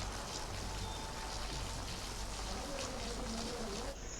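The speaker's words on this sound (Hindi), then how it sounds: "अभी भी बारिश झमाझम हो रही है" Heavy, steady rain pours down during a downpour in Raebareli, a dense continuous hiss of drops across the whole clip with faint background voices underneath.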